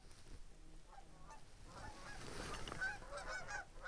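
Geese honk during a goose hunt, a few scattered calls at first, then a cluster of clear, moderately near honks toward the end over an outdoor hiss.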